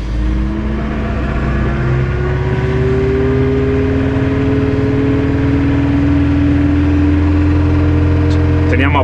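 A tractor engine revs high with its power take-off engaged while digging drainage ditches in an asparagus field, a loud steady drone with rising harmonic whine held throughout.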